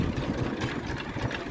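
A Farmall Cub tractor engine, in need of a tune-up, idles roughly beside a hammer mill with a steady, pulsing chug at close range.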